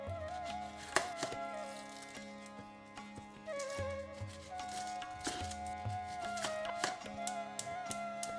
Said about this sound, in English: I'm going to finely chop this up